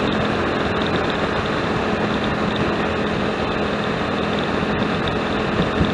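A motorcycle with fresh oil and a repaired exhaust hums steadily and low for the whole stretch, smooth and even with no revving, under constant road and wind noise.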